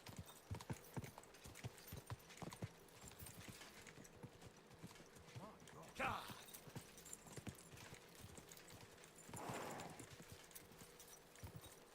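Steady clip-clop of horse hooves at a walking pace in Kingdom Come: Deliverance II, fairly quiet, with a couple of soft swells of breathy noise along the way.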